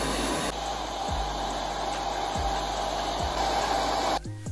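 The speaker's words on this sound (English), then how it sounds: "I'm gonna dry my hair." A hair dryer runs steadily and loudly, drying roller-set relaxed hair. The strong continuous whoosh has a faint low pulse under it and cuts off near the end.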